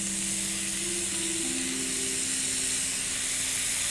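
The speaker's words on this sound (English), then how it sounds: "Into the pan they go, non-stick skillet, and we'll just arrange a few around here" Thin salmon slices sizzle in a non-stick skillet, a steady close hiss of frying with a faint low hum running underneath throughout.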